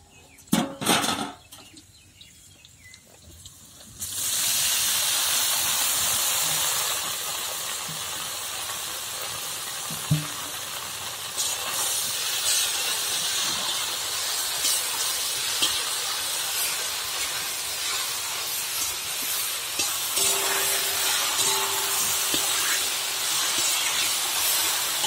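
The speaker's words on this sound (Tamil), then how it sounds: "இப்ப வந்து வெண்டைக்காய கொட்டி வதக்கிக்கலாம்." Okra (lady finger) goes into a hot pan to be sautéed. After a few quiet seconds a loud, continuous close hiss and sizzle begins and holds steady, with occasional faint clinks.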